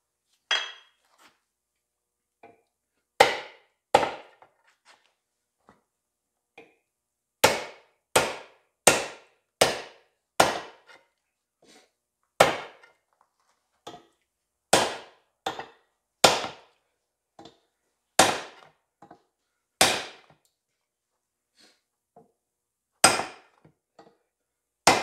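A wooden wedge is hammered into the eye of a vintage Plumb single-bit axe during hafting: about twenty sharp, close, loud knocks come in irregular clusters, some in quick runs, with no talking.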